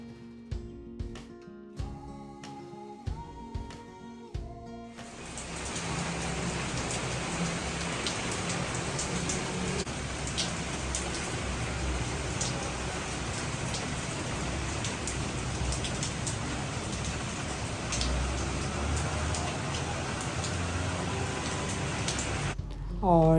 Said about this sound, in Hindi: आज इतनी शदीद वाली बारिश हुई थी